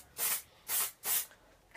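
Three short hissing bursts from an aerosol spray can, close and evenly spaced, each lasting about a quarter second with quiet gaps between.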